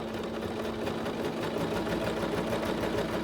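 A Singer SewMate 5400 sewing machine back stitching while sewing in a zipper: a steady, close mechanical whir with a rapid needle rhythm, running continuously.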